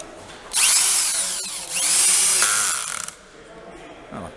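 A speed-adjusted cordless screwdriver drives a screw into wood in two loud whining bursts with a short pause between them, its motor pitch shifting as the screw seats, then the tool falls quiet.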